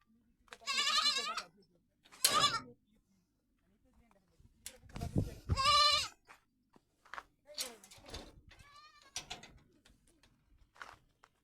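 Several loud, wavering bleats from goats nearby, coming in separate bursts with quiet gaps, plus softer cooing and rustling between them.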